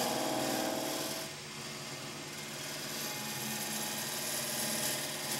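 A wood lathe with a gouge cutting a bowl blank spinning at about 1100 RPM, giving a steady close scraping and shearing hiss with a low motor hum, continuous for the whole stretch.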